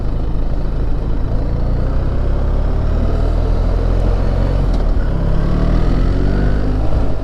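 A BMW R1300GS motorcycle cruises along a highway, its engine humming loud and close amid constant wind and road noise, with rising tones near the end as it revs.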